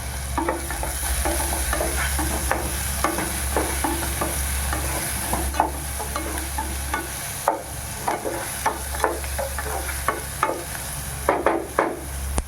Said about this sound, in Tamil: உப்பு போட்டு நல்லா வதங்கட்டும்.